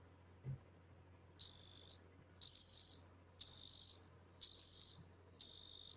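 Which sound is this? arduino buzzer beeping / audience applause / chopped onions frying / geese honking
arduino buzzer beeping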